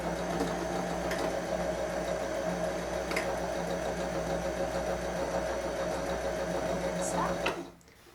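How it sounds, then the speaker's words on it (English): A sewing machine runs continuously, stitching the side seams of a skirt with a steady close mechanical whir and faint ticking, then stops abruptly near the end; a person talks over it. "Okay, so Anna, you can go ahead and sew our sides."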